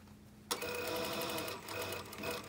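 A sewing machine back-tacks a seam on a knife-edge bolster, starting abruptly after a moment of near silence and then running in a steady, close, loud whir with brief dips where the stitching reverses.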